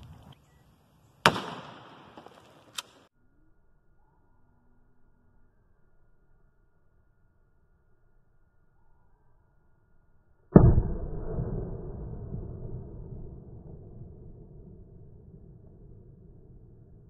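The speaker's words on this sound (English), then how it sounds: "Let's go shotgun slug." Outdoor shotgun slug shots at body armor: two sharp cracks early on, then a long quiet stretch and a loud blast whose rumbling echo fades over several seconds.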